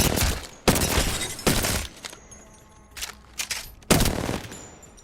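R99 submachine gun fire in Apex Legends: several rapid full-auto bursts, loud and close, separated by short pauses and followed by scattered shell and impact clatter.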